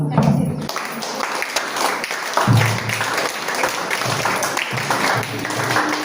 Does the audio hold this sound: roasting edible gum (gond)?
no